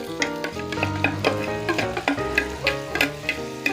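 Strip steak and jumbo shrimp fry in a pan with steady sizzling, punctuated by repeated clinks and scrapes of stirring and turning, close and moderately loud with no talking.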